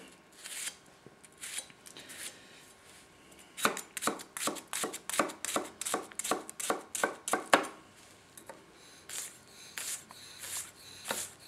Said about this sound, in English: I'm going to rock chop this one for you